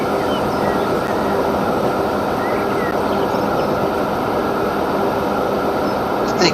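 Trains rolling in the Transport Fever 2 simulation: a steady, dense rumble with a continuous hiss and rail noise that holds an even level for the whole stretch, with no voices on top.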